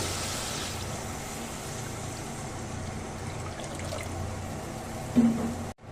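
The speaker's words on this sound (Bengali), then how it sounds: "এবার আমি এর মধ্যে দিয়ে দিচ্ছি পরিমাণ মতো জল" Water poured into a pan of cooked, fried-down spice mixture for a small-fish curry, a continuous close splashing trickle that runs evenly for several seconds and then cuts off abruptly.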